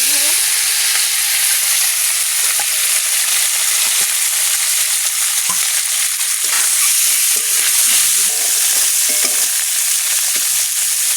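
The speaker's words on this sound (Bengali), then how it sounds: "তেল গরম হয়ে গেছে মাছগুলো দিয়ে দেবো" Fish coated in salt and turmeric fry in hot oil, making a loud, dense, continuous sizzle heard up close that stays steady throughout, with occasional small pops and crackles.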